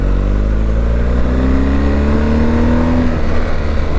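A BMW GS 1250 motorcycle engine pulls hard under acceleration in road mode, a loud, steady boxer drone rising in pitch as the revs climb, then easing at the end, with continuous wind rush over it and no talk.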